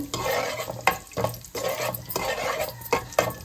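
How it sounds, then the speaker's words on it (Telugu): Whole spices frying in oil in a pan for prawn biryani, a steady close sizzle broken every half second or so by sharp scraping stirs of a spoon against the metal, with no talk. "మసాలా దినుసులు నేను కొంచెం ఫ్రై చేసుకోవాలి"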